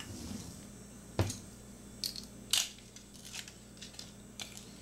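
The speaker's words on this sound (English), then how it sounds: "Then we need to stir." Dry yeast is stirred into warm water in a bowl, heard as a few sparse, close clicks and scrapes of a utensil against the bowl over a quiet background.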